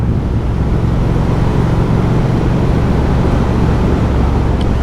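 A Triumph Speed Twin 1200 motorcycle cruises at 70 mph and about 4,000 RPM, giving a steady, loud roar of engine and wind rush with no break and no talk.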